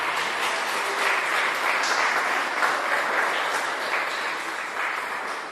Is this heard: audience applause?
yes